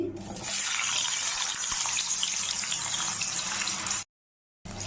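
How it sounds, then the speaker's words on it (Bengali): Potatoes frying in oil for a soya chunk curry, a steady close hiss and sizzle that fades in at the start and runs evenly, with a brief silent break near the end. "আলুগুলো ভেজে নিচ্ছি"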